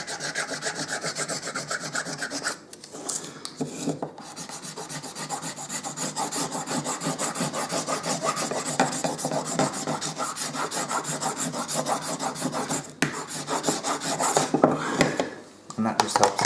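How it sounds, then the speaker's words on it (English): Continuous dry rubbing and scraping of a highlighter tip burnishing a spalted wood guitar pick, a steady close rasping texture with a few brief pauses. "I want to burnish it."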